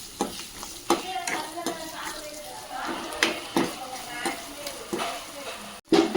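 Masala is stirred in a frying pan with a spoon scraping and tapping against the metal, giving a series of irregular clacks over a soft sizzle, close by, ending with a brief pause and a louder clatter.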